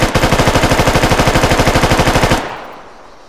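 M4A1 rifle in the Arma 3 RHS mod fires on full auto, a single loud, close burst of fast, regular shots running over two seconds before cutting off into a decaying reverberant tail.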